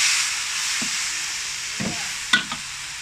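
Silkworm pupae stir-fried over low heat in a pan, a steady sizzle with a few scraping stirs of the utensil near the end.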